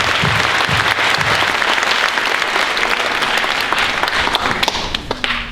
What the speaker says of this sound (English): Round of applause for Mr. Avery Wagner.